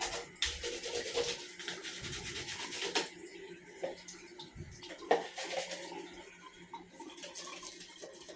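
An African net sponge is scrubbed wet in quick, rough brushing strokes, a close, bristly rasping with splashy water bursts and pauses between scrub sessions, no voices.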